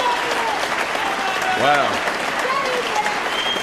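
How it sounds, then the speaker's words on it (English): A crowd applauds at the 2002 World Pool Championship after a 9-ball match, sustained clapping filling the hall while a commentator briefly exclaims over it. "the crowd is showing their appreciation to the Pearl"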